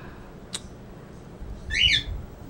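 An indoor pet bird lets out a sharp brief chirp, then a louder warbling squawk-like call about a second later, each standing alone against a quiet room.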